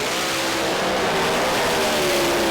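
Pro Mod drag racing cars launch down the strip at a British Drag Racing Championship round, a loud, continuous engine roar with rising pitch that stays steady and close for the whole stretch, with no talk.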